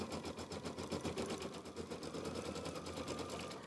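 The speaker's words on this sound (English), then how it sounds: "let's go ahead and stitch that out" Sewing machine stitching the outline of an egg into a mini quilt, running as a steady fast mechanical chatter for several seconds at moderate loudness with no voice.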